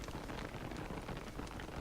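Rain in the game Don't Starve: Reign of Giants, a steady, soft hiss of falling drops that stays even throughout, faint and unbroken by talk.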